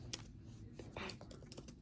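Quick clatter of keys on a computer keyboard as a search query is entered, a brief faint burst of uneven taps close by.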